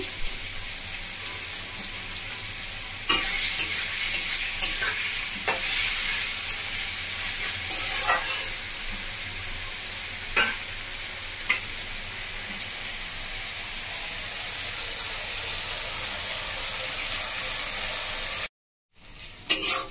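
Onion, chili and tomato frying in leftover fish-frying oil with salt, a steady hissing sizzle broken by scattered clicks of stirring, close and fairly loud, briefly cutting out near the end.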